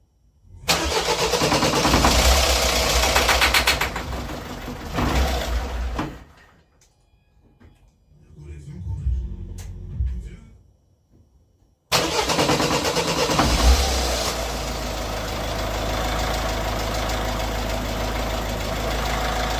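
A Peugeot 207 engine cranks and catches, runs loud and close, drops away briefly with faint clunks and rustling, then starts again and settles into a steady, even idle.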